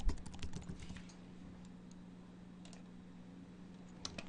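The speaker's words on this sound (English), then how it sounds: "you can type in your Gustavus ID and password" A computer keyboard is typed on to enter a login ID and password, a quick run of soft, close clicking keystrokes that thins out toward the end, with a steady low hum underneath.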